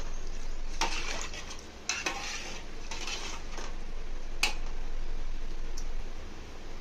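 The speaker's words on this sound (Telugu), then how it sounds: "బాగా కలుపుకోవాలి." A spoon scrapes and clinks in a pot of rice and water, stirred several times over a steady background hiss, irregular stirring strokes close by.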